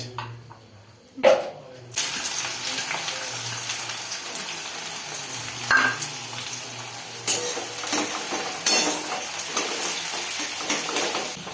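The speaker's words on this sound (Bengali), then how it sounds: "পেঁয়াজগুলো হালকা ভাজবো লাল লাল করে" Sliced onions frying lightly in a pan with dried red chillies and whole garam masala make a steady broad sizzle after a sharp clatter as they go in, with occasional stirring bumps.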